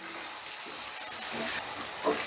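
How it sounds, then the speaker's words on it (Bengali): Onions fry in a pan with a steady, soft sizzling hiss throughout, a few faint stirring clinks near the end. "পেঁয়াজটা কিছুক্ষণ ভাজার পর যখন এরকম নরম হয়ে যাবে"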